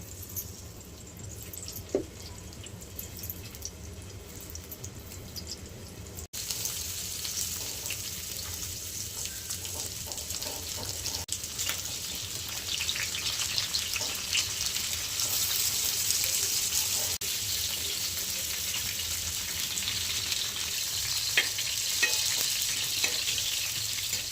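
Ridge gourd pieces fry in oil on a flat pan for chutney, starting with a quieter sizzle and then swelling into a steady, loud crackling hiss dotted with small pops and spatters.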